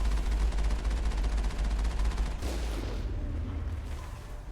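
An enemy cannon fires in the video game Mass Effect during a vehicle fight, a loud rapid rattling volley followed by a heavy blast that fades into rumbling.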